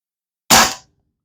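A single sharp shot from an RCO De Masculator air rifle firing C.P.H.P pellets, a crisp close pop with a short decaying tail, surrounded by silence.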